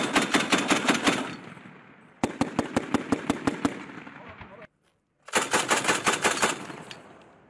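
An Mk 19 Mod 3 40mm automatic grenade launcher fires three loud, close bursts of rapid, evenly spaced thumping reports, with a short silent gap before the last burst.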